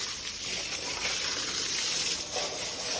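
Water spraying steadily onto fresh masonry at a three-storey house under construction, a continuous close hiss with no voices.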